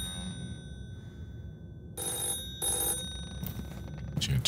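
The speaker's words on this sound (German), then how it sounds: "Ist hier ein Telefon?" An old-fashioned telephone bell rings in bursts of harsh, metallic trilling inside a horror video game, several rings with short gaps over a quiet, eerie background.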